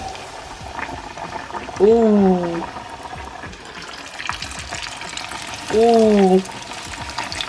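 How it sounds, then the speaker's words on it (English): Steady, loud sizzling of chicken frying in hot oil in a rice cooker, with a voice briefly exclaiming twice over it. "Let's hear for that sizzle."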